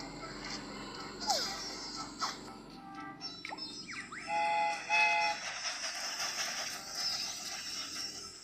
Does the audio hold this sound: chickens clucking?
no